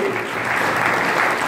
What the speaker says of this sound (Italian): Un grande applauso per il calcio Cefalù.